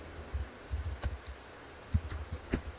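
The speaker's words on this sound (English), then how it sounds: "I'm going to type in scrolling text" A computer keyboard gives off a few soft, irregular clicks as someone types a short heading, quiet and close with gaps between keystrokes.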